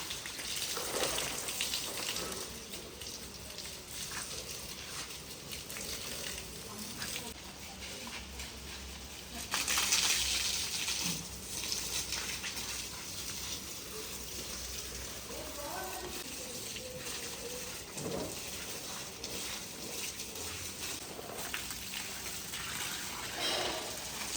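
Water is poured over plants in a home vegetable and rose garden. A continuous splashing, pattering wash of water runs throughout, close and fairly steady, with a voice talking over it at times.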